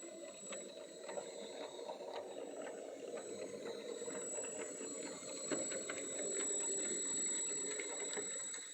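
A Bachmann model 0-6-0 saddle tank steam locomotive runs on a layout with a smooth, steady mechanical whir and hum, faint and close, rising slightly toward the end.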